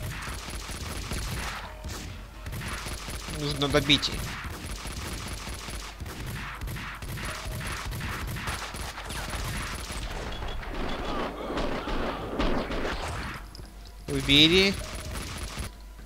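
Gunfire in the video game Max Payne 2, with repeated sharp shots and bursts spread across the scene, some loud and close, under ongoing male speech.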